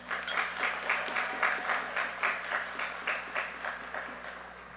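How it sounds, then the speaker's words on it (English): Audience applause for the South Cobb High School graduating class at an outdoor ceremony, a sustained wash of many hands clapping at moderate distance, gently swelling and fading in waves. "Can we please give them a round of applause?"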